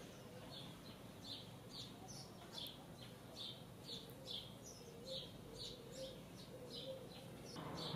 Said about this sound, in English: Double-collared seed-eater